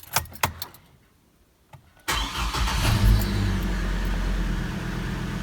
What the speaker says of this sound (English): we'll grab the keys and start the engine.